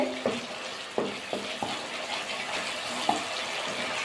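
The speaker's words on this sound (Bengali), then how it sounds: "দেখুন আমি আমার মতো কিন্তু নাড়াচাড়া করছি" Cauliflower and peas fry in a wok while being stirred, giving a steady sizzle with a few distinct scrapes and knocks of the spatula against the pan, close up and with no talking.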